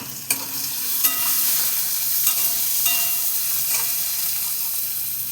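A mustard-spice paste for pabda fish curry sizzles and fries steadily in hot oil, with a few light scrapes of stirring over the constant loud hiss.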